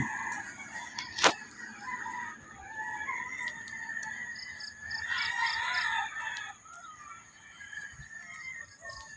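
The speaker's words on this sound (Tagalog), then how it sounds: "ika'y marerelax sa huni ng mga manok, hindi ibon" Roosters crow in the distance, overlapping calls rising and falling against a steady outdoor background, with one sharp knock early on.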